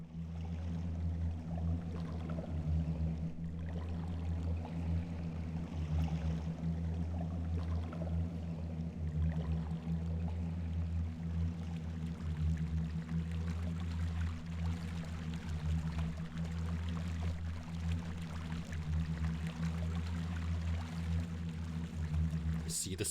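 A small raft drifts across water in the stealth game Thief Gold, giving a steady low rumbling wash with faint trickling and lapping on top, continuous and even throughout, with no voices.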